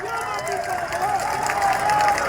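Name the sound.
crowd applauding at political rally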